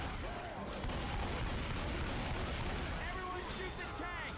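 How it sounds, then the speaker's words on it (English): Dense, continuous gunfire rattles in Left 4 Dead 2 as players shoot at the Tank, a loud overlapping barrage with game sounds and voices mixed in. "Everyone shoot the tank!"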